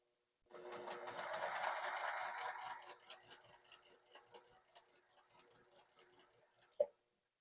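Home sewing machine stitching a quilt sampler block, a rapid steady run of needle strokes that slows into slower uneven bursts, ending with a sharp click.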